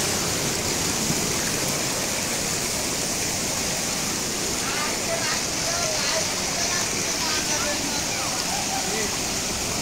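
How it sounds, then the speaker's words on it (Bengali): Rushing floodwater current pours steadily after a night of rain in Magura, a dense broadband roar that stays constant and close throughout. "কি পরিমাণ স্রোত এখান থেকে নামতেছে"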